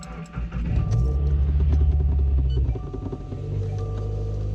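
A Subaru WRX engine idles while warming up in snowy weather, a steady low rumble with a brief swell early on before settling into an even idle, close and alone.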